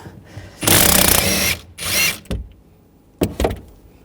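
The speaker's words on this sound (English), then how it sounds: "Using a 16mm socket, take this nut out." A power tool with a 16mm socket spins a nut off a rear upper shock mount on a 2007-2013 BMW 328i, in two loud bursts followed by short clanks of handling.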